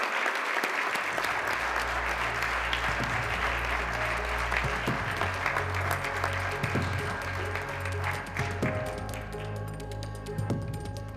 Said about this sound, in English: Please give a big round of applause for Sydney Shorter, President and CEO of Utah Black Chamber